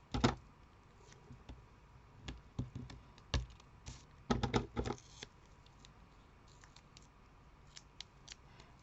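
Quiet, irregular snips and clicks of scissors cutting craft card for a gift-card pocket come in short bursts, with no talking.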